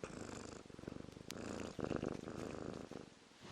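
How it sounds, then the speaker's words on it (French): A soft, continuous cat purr with a steady rhythmic pulse, close up and fairly quiet, running throughout with slight swells in intensity. "des petits ronronnements de chat, de petits chats"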